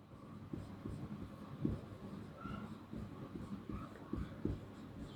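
Marker or chalk scratching on a board in a maths class, a string of short strokes and taps close by, fairly faint over a low room hum with no talk.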